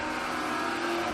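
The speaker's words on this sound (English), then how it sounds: "y'all always hear motorcycles zooming up and down the street" A motorcycle zooms along a street, its steady engine roar holding at a constant level through the whole short stretch with no pause.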